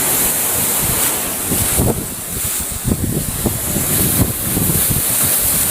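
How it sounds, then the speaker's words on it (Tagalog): Strong ocean waves roar continuously with heavy wind buffeting the microphone, the surf crashing loud and close throughout. "yung alon dito sobrang lakas na"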